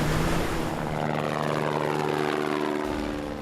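A Border Force helicopter flies close by, its engine and rotors giving a loud, steady droning hum with layered tonal whine that fades slightly toward the end, with no voices.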